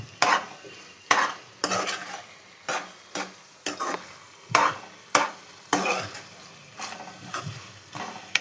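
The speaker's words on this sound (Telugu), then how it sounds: "అల్లం పేస్ట్ కూడా మంచిగా ఆయిల్లో మగ్గిద్ది" Ginger paste and tomatoes sautéing in hot oil for an eggplant tomato curry, with a spatula stirring and scraping the pan in repeated sharp strokes over a steady close sizzle, no talking.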